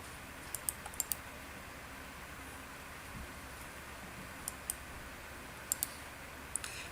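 Scattered, quiet clicks from a computer mouse and keyboard, a few isolated taps and short pairs over a faint steady hiss.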